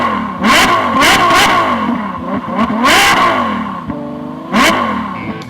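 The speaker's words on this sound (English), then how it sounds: "Start your engines." Racing car engines start and rev hard in repeated loud bursts, rising and falling in pitch, with clattering mechanical noise between the revs and no talk.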